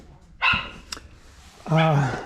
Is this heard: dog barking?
yes